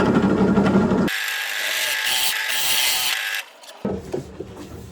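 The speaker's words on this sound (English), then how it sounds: "So now it's time to drill out the waste very carefully" A drill bores out waste wood for guitar pickup holes, short bursts of high whirring and chewing wood cut with pauses between passes, close and fairly loud.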